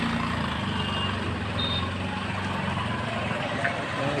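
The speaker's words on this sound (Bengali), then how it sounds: "দেখো অটোটা যাচ্ছে, অটোটা দেখো কীভাবে যাচ্ছে।" A motorized auto-rickshaw rumbles past on a rough, potholed road near Barrackpore, a steady engine drone with faint rattles, filling the clip at moderate volume without speech.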